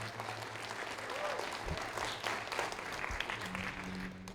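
Audience applause at a space-economy moon mission event, a continuous steady wash of clapping from a sizable crowd, moderately loud, with faint voices and a low hum underneath.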